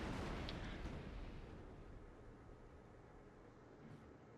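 A naval gun salvo from a warship in World of Warships fires at the Tirpitz, a heavy boom at the start that rolls into a long, low rumbling decay, loud and close, with no voices.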